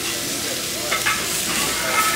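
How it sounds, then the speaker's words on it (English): Steak sizzling in a pan or on a grill, a steady close hiss of frying with faint stirring or scraping touches, heard alone without talk. "It's sizzling."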